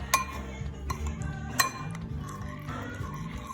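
Olive oil, lemon, za'atar and honey dressing is stirred, probably with metal utensils, giving a few close, bright clinks and scrapes against the bowl and then a softer, irregular stirring. The clinks fall early and recur near the middle.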